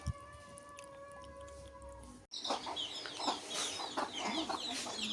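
Domestic chickens cluck loudly and close by inside a rural house, after a few seconds of quieter background hum; several birds call in overlapping bursts.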